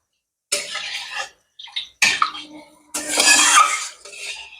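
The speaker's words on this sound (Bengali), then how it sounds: "এবার আমি জল দিয়ে দেবো" Water splashes into a hot pan of mustard fish curry in a home kitchen, hissing and sputtering in loud bursts with short pauses between pours.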